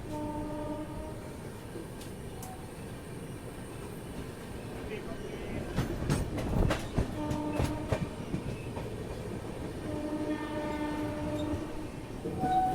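A passenger train on a rural Uttar Pradesh line rumbles along steadily, with wheel clatter and several horn blasts that grow louder midway, all heard from inside the moving train.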